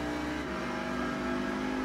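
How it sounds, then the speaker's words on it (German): A Ford GT race car engine in the Gran Turismo video game drones at steady high revs around a high-speed ring, a continuous dense mechanical roar with no speech. "weil ich fahre jetzt in Highspeed-Ring mit dem guten alten Ford GT."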